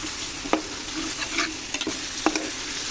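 Chepa shutki dried fish is stir-fried in oil in a karahi, giving a soft steady sizzle with a few sharp scrapes and taps of the spatula, close and quiet with no speech.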